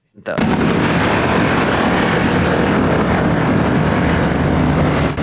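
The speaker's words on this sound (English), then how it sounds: "We now see the MH-60 helicopter taking off." An MH-60 helicopter taking off, a loud, continuous broadband roar of rotor and engine that rises sharply at the start and holds steady and close for several seconds with no talk over it.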